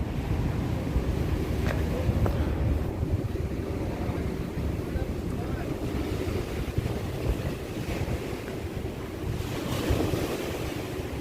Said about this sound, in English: Get the water underneath, the waves.